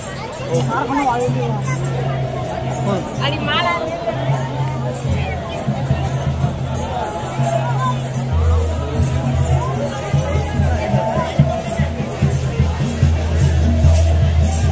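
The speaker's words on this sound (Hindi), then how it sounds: "अब इतनी भीड़ हो गई है कि लोग अब खड़े होकर देखने लग गए हैं।" Large crowd murmuring at the Gavri folk dance festival closing ceremony in Bhuwana village, Udaipur, Mewar; a dense, steady hubbub of many voices fills the scene, with low rumbling undertones and no single voice standing out.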